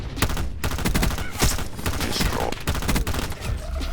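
Rapid bursts of M16 rifle fire in Black Ops 4, loud and close, with the crackling shots coming in dense, continuous volleys.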